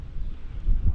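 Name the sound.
wind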